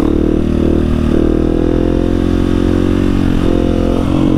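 A 701 motorcycle's engine drones loud and close during wheelie practice on a slight uphill, its engine braking holding a steady, rich harmonic note whose pitch sags and wavers, with no talk.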